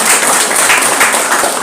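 Loud, dense crowd applause at a political rally declaring support for Prabowo-Gibran, hundreds clapping together in a continuous wash that stays steady throughout.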